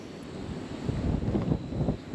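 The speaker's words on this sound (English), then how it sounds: "Got pretty windy out of nowhere." Gusting wind buffets a microphone outdoors near a bridge over water on the way to a waterfall in Nebraska, a steady low rumble that swells and surges in waves.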